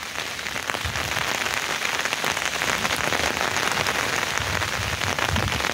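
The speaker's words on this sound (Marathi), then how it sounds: "आज परत मेच्या 16 तारखेला पाऊस पडतोय।" Heavy May rain in rural Konkan pours down in a dense, unbroken hiss on surfaces, loud and close throughout with no voices.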